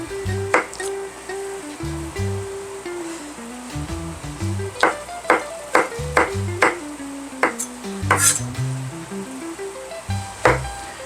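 A knife slices mushrooms on a cutting board in a kitchen, giving a series of irregular sharp taps and chops over soft background music.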